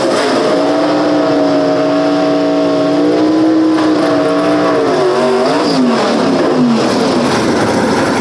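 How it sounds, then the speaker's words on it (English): A drag race car engine at Shadyside Dragway, with a bar race engine under the hood, revs loud and close, its pitch holding steady then sweeping and dropping in waves, with no talking. "Todd Blackwell with that bar race engine underneath the hood right there"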